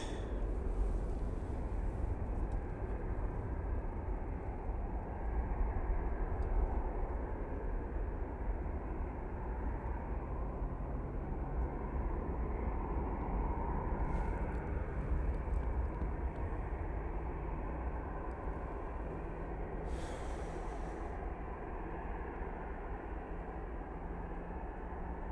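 A Qatar Airways airliner at Manchester Airport, a long steady low engine rumble heard from a distance, broad and even over the whole stretch with a few brief higher bursts.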